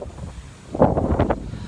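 Wind buffets the microphone in gusty rushes during a morning fixed-gear bicycle ride, growing stronger with a few louder bursts toward the end.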